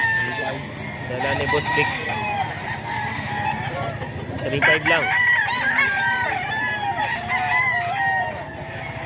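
Boss Vic's gamecocks crow repeatedly at a rooster seller's in Bocaue, several loud, overlapping cock-a-doodle-doos with clucking in the background while someone talks over them.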